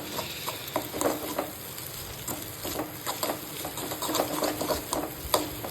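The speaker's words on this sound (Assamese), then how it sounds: "এই কণী ঢালি দিলোঁ, এতিয়া ভাজি অলপ মিক্স কৰি ভাজি দিওঁ" Egg Maggi noodles frying and being stirred in a pan: a continuous sizzle with irregular scraping and tapping of the utensil, close and moderately loud, with no talking.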